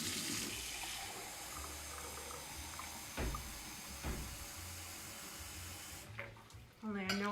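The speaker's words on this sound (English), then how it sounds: "we're going to put them in this pan with about 2 cups of water" Water runs steadily into a pan holding red onion skins for natural egg dyeing, a continuous close splashing hiss that cuts off near the end, followed by a brief tonal clink.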